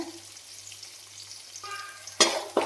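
Curry leaves and onion hit hot oil in a pan for beef curry, a quiet start followed by two sudden bursts of loud sizzling and spluttering up close.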